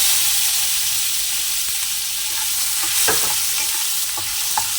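Tomatoes fry in oil in a pan, a steady loud sizzle and hiss with a few scraping stirs of a spatula knocking in near the middle and end, no voices.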